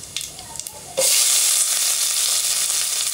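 Onions drop into hot oil with mustard seeds and chana dal for turkey berry sambar, then a loud, steady sizzle of frying runs on without a break. Before the onions go in, a few quieter pops and crackles come from the pan.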